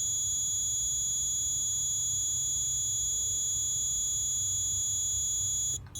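Multimeter beeping steadily while its probes measure a light bulb's resistance in a simple classroom circuit demonstration, a continuous high-pitched tone that runs unbroken and then cuts off right at the end, with a low hum underneath.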